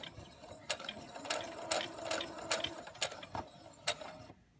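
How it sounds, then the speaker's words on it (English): A sewing machine runs slowly in reverse to lock a stitch, its needle clicking in a quick, even rhythm at close range for several seconds before stopping. "Now we're going to go backwards to do a locking stitch."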